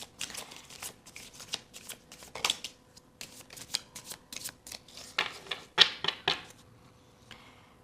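Tarot cards are shuffled by hand during a pick-a-card reading, a close, quiet series of crisp riffling and flicking bursts in an uneven rhythm, with no voice heard.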